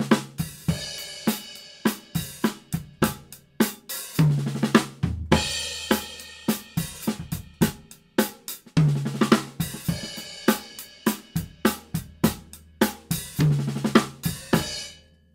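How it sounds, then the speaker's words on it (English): Drum kit playing a six-stroke roll intro fill in a Motown style, with crisp, close, loud strokes in quick bursts and repeated phrases, each fill ending on deeper drum and cymbal hits, with no talk. "So I broke that down and realized that it was a six-stroke roll."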